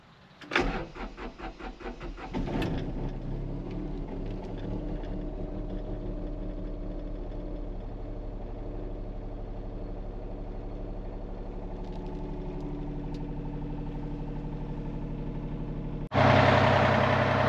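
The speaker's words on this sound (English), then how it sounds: "Do a cold start here. Let the glow plugs go a couple seconds." A Takeuchi diesel machine cold-starts after a brief glow-plug wait, cranking and catching, then settles into a steady, close idle clatter that runs on until a louder burst near the end.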